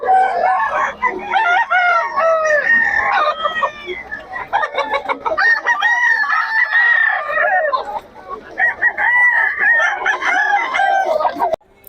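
A young rooster (stag) at the Bocaue tiangge market crows loudly and close, several times in a row, with clucking between the calls.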